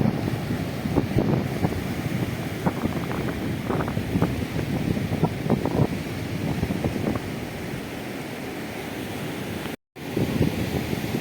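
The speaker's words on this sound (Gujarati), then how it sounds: "મોજા છે ભાઈ જબરટું બોલે" Continuous roaring surf with waves breaking close by, mixed with heavy wind buffeting the microphone.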